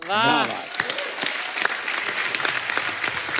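Studio audience on a Hindi TV comedy talk show bursts into loud applause that quickly fades into scattered clapping beneath ongoing talk.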